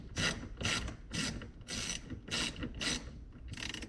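A ratchet wrench clicks in a series of seven quick, rhythmic bursts, close and fairly loud, while it undoes nuts on the handbrake of a Toyota Supra MKIV, with no talk.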